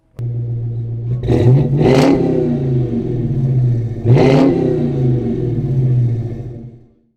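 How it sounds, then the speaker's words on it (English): A 2021 Dodge Charger Hellcat Redeye engine cranks and roars to life, revving hard twice in deep throaty blasts, then settles into a loud rumbling idle before cutting off. "we'll do a startup for you so you can actually hear what's going on"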